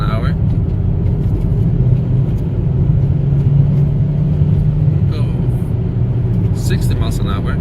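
A car cruising on the road at about 40 miles an hour, with a steady loud rumble of engine and tyre noise throughout and a few brief sounds near the end.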